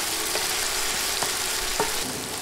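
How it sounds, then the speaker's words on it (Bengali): Garlic and ginger paste frying with onions in a hot pan, a steady dense sizzle with a few soft stirring scrapes, close and continuous with no voices. "বাটা মশলাগুলো 20 সেকেন্ড ভাজবো, যাতে রসুন ও আদার কাঁচা গন্ধ চলে যায়।"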